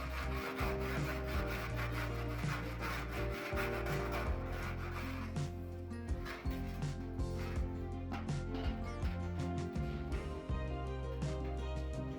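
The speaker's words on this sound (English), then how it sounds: "both ends are carefully hammered flat and the edges are smoothed using a file to ensure a perfect weld" A metal file rasps along the edges of a brass vessel being smoothed after hammering, steady rubbing strokes repeating throughout against a dense workshop background.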